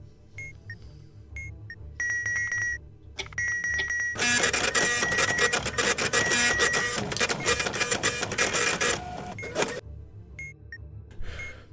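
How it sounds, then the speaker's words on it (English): Module sounds from a bomb-defusal video game: a sequence of short electronic beeps, then a long, loud, buzzing mechanical printer-like whir lasting several seconds, followed by more sparse beeps. "That 2 bits noise is always stressful"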